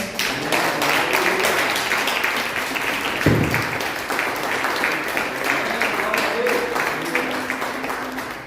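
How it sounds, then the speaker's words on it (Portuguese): A church congregation at a Portuguese-language worship service claps together, a dense, loud, sustained rattle of many hands with a sharp louder clap near the middle, and voices call out beneath the applause throughout. "Vamos aplaudir ao Senhor."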